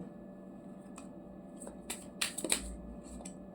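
A Nightmare tarot deck being shuffled, with soft papery riffles and card snaps in a few short bursts near the middle, close and fairly quiet, no talk.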